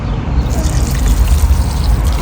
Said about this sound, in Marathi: तर इथे पण समोर आता पाणी देते मी